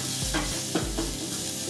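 Garlic and shallots sizzle in olive oil in a small pot while a spoon stirs them, giving a steady close fry with soft scraping strokes about every half second.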